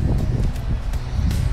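Cold wind blows hard across a snowy ski hill where snow is being blown, a steady low roar of gusts buffeting the microphone with no talk.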